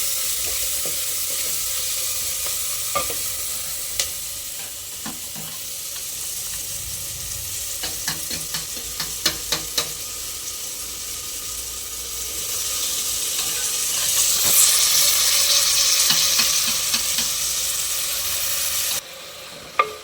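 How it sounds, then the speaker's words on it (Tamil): Ginger and garlic sauté in a pan with a steady sizzle and a burst of quick scraping stirs midway, the hiss swelling louder near the end before stopping abruptly. "இஞ்சி பூண்டு பாருங்கள் ஒரு பத்து செகண்ட் வதங்கினா போதும்"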